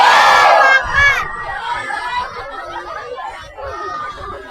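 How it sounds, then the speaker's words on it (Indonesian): A crowd of schoolchildren at a religious talk shouts the takbir in a loud collective burst, then breaks into excited chatter and scattered shouting that gradually quiets. "Dengar suara saya teriakan takbir."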